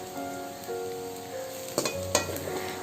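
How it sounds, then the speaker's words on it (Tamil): Garlic sizzles and crackles steadily in a pan on low heat while making spicy puffed rice, a soft continuous fizz with a couple of louder pops near the end, close and alone. "அடுப்பை சிம்மிலேயே விட்டு வறுத்துக்கோங்க"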